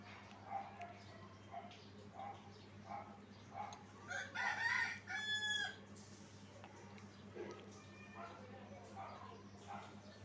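Chickens cluck steadily in the background, then a rooster crows loudly midway; talk runs over much of it.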